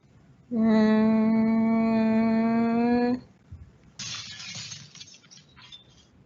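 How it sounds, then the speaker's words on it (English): A steady, piercing harmonic tone rings for about three seconds, then a drinking glass on the edge of a table bursts with a sharp crash and trailing tinkles of scattering shards. "The glass was shattered"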